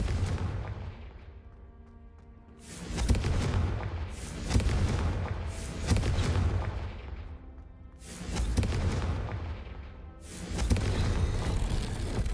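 Confringo blasting spells in Hogwarts Legacy, five heavy booming explosions a couple of seconds apart, each with a long rumbling tail, loud and without speech.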